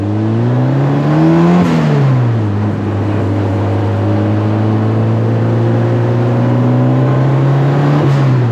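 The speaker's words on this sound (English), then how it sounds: "Turbocharged 4-wheel Polaris Slingshot." A turbocharged four-wheel Polaris Slingshot engine revs and accelerates loudly and close, its pitch climbing, dipping at a gear change near the two-second mark, then holding a steady drone before rising again.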